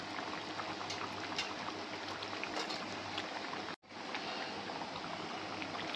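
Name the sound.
chicken meat boiling on medium heat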